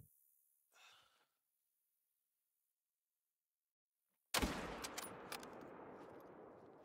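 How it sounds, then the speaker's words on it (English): A rifle shot fired while hunting pronghorn in the game theHunter: Call of the Wild cracks out loud and sudden after a long near-silence, then rolls into a sustained echoing report with a few sharp trailing cracks. "I think I can shoot him."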